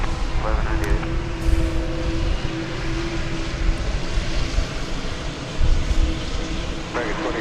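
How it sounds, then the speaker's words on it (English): Dash 8 turboprop airliner at DFW Airport giving a steady, droning engine roar with a sustained tonal hum, loud and continuous through the whole stretch, with bits of radio chatter mixed in. "This is the Dash 8 variant. It is going to Maui."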